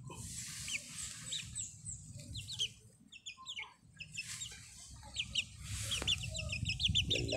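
Chickens clucking and peeping nearby on a small farm, several birds calling in uneven bursts over a low rustling background, no talking.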